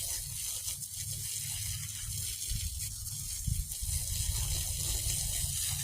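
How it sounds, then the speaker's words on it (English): Water gushes steadily onto a newly planted tree set in fresh soil over clay, a continuous close splashing flow with a low rumbling undertone and no talking. "You just want to water this stuff in."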